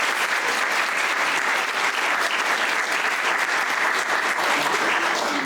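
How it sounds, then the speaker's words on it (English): A theatre audience at a musical stage show applauds steadily and loudly, a dense, continuous wash of many hands clapping throughout with no pauses. "Come on, keep clapping, that's it."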